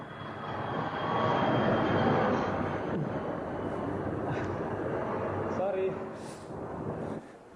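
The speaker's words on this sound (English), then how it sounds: "just like every day we hear a plane coming above our office." Aircraft passing over an office building, a broad steady roar that swells early and holds for several seconds before easing, heard alone at moderate loudness.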